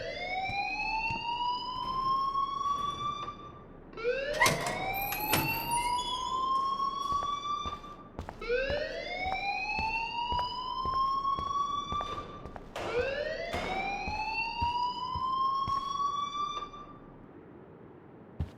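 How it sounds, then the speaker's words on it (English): Fire alarm siren in the Life is Strange video game, a loud rising whoop repeating about every four seconds, sustained and close with occasional clanks between cycles, no voices. "please turn off that alarm since that's your job"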